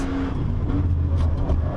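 A Nissan GT-R Nismo pulls hard in fourth gear up a climb on the Nürburgring, its engine droning loud and steady from inside the car with a constant low roar.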